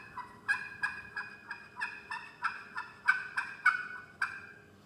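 A striker is circled on an aluminum turkey call, giving a rhythmic series of about a dozen sharp, raspy yelps and clucks. Each note is distinct and close, with short gaps between them and no voices.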